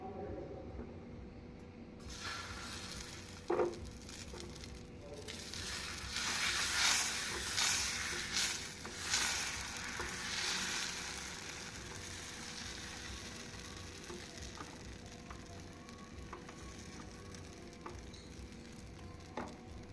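Dosa batter sizzles on a hot dosa pan for a hotel-style podi dosa, a steady close frying hiss that swells in the middle, with a few scraping knocks and a voice talking over it.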